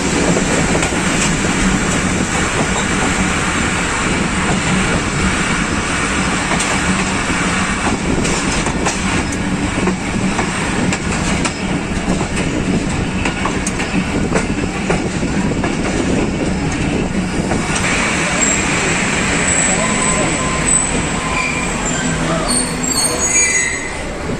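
Awam Express passenger train of Pakistan Railways running on rails between Rawalpindi and Peshawar, a loud, steady rumble of wheels with rhythmic clickety-clack and metallic squealing throughout, with no voices.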